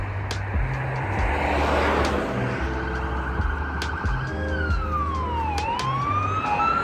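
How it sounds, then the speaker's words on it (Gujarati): A wailing ambulance siren passes along a street, its pitch sweeping up and down and dipping as the vehicle goes by, loud over traffic noise, and no one speaks. "એમ્બ્યુલન્સ આવે છે."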